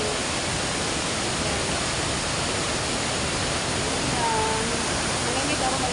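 Pondol Falls roars with a heavy flow of water after a typhoon, a loud, constant broadband rush that fills the whole stretch.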